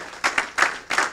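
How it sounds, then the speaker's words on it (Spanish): Brief burst of clapping from a church congregation, three quick swells of applause within about a second, fairly close and loud. "den un aplauso fuerte al Señor"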